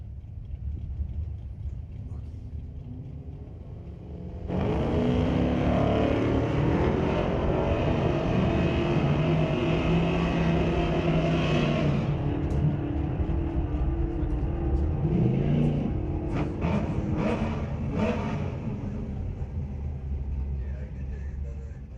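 Drag racing cars, including a white Mustang, launch at a Doorwarz event. A heavy, loud engine roar cuts in after a quieter start and holds steady for most of the run, with an announcer's voice over it.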